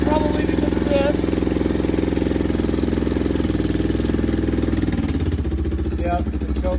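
A 2003 Kawasaki Prairie 360 4x4 ATV idles steadily and a little high, its even low throbbing pulse carrying on close and loud throughout, with faint voice fragments over it.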